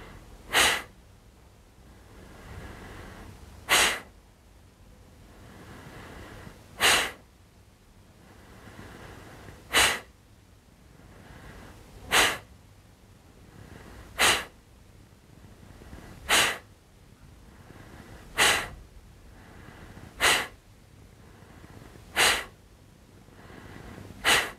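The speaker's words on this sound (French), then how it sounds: "Sentez le ventre gonfler et l'énergie qui ressort par le nez à chaque fois que vous expirez." Short forceful exhalations through the nose repeat at a slow, even pace, about every two seconds, near and alone over a quiet background, as in a breathing exercise for digestion.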